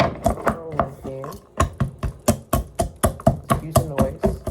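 A long rolling pin crushes cardamom pods and cinnamon on a hard surface. Close, sharp knocks come in a fast, steady series, and there is no talking.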